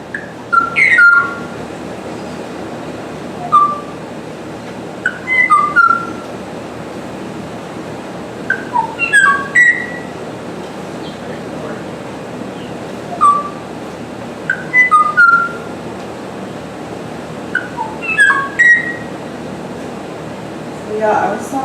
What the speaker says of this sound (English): This is the Kauai o'o, which was last heard in 1987.